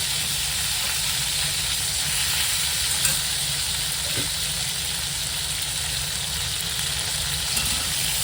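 Large pieces of cauliflower fry in a pan, making a continuous, even sizzle and hiss at a steady loud level. It goes on with hardly any change and no talk.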